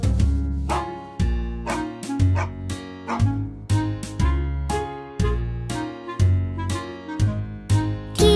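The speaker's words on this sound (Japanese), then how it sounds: "犬だ。" A dog barks repeatedly in a quick, uneven series of loud, close yips and woofs, with short pauses between bursts.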